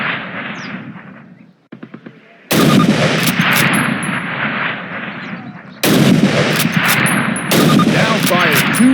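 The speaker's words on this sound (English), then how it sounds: "fire 2 rounds at your target" Two loud Springfield rifle shots fired at a target in Call of Duty, a sharp blast near 2.5 s and another near 5.8 s, each with a long rumbling tail over ambient battlefield noise.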